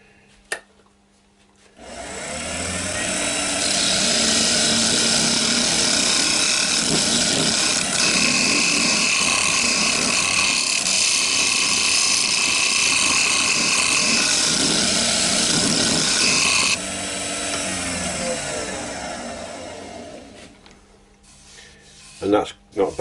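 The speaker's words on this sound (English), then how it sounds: "I'm just going to go over it now with a few gentle scrapes with a nice wide skew chisel" A wide skew chisel scrapes steadily against a walnut bowl spinning on a wood lathe, a loud, continuous rasping over the whir of the lathe for about fifteen seconds, then easing off into a quieter motor hum.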